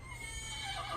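A giant red-coated horse neighs in a loud, wavering whinny that rises and trails over one second, set against a low steady rumble with no voices.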